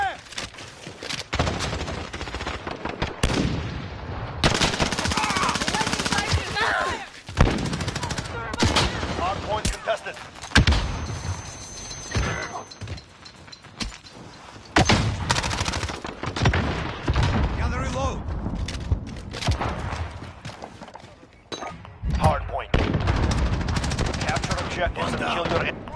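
Gunfire in a Call of Duty match, repeated bursts of automatic fire and single shots, loud and close, mixed with game voice callouts.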